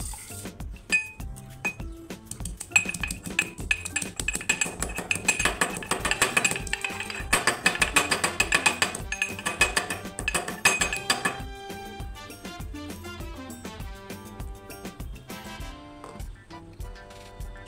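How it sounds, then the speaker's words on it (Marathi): Steady metallic pounding of garlic in a mortar and pestle, rapid repeated clinks and taps close by, without talk. "काही लसूण फोडणीसाठी खलबत्त्यामध्ये कुटून"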